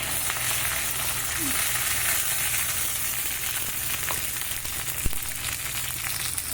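Onions sizzle steadily in a hot pan for a broccoli curry, a constant close frying hiss with a faint stir or clink of a utensil near the end.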